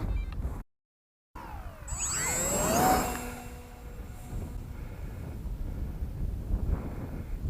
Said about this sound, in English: Whoa, it's gusty now.